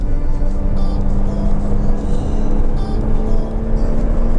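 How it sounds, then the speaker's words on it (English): A Porsche Cayman 987 revving hard on an open road, a loud, steady engine drone with a strong low rumble that swells slightly, close and continuous throughout with no talk. "Sexual noises coming from the Cayman."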